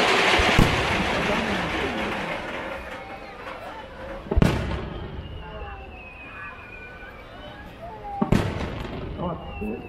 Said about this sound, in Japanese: ここから再び打ち上げ花火に変わり